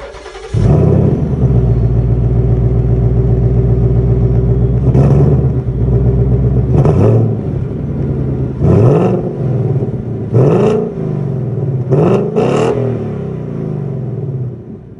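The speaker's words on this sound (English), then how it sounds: "that was of course the sound of the 5-liter V8 engine offered by Ford for the Mustang" A Ford Mustang GT's 5-liter V8 engine cranks and starts with a loud rumble, idles steadily, then revs sharply several times in quick bursts, close by.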